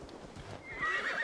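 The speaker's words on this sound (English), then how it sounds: "Call my horse." A horse whinnies in the video game Assassin's Creed Valhalla, high and shrill, over a low rumbling background, with the neigh rising in the second half.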